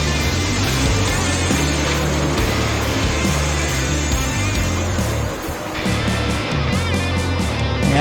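Loud drag-racing engines roar at a race meet as a Dodge and a Chevrolet Camaro run down the track, a dense, continuous engine howl with shifting tones and a brief dip in the middle.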